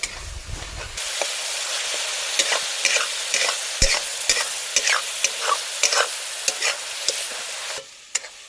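Onions for a village-style paneer curry sizzle steadily in a pan, stirred with frequent scraping strokes in an irregular rhythm; the hiss is loud and close, with no talking.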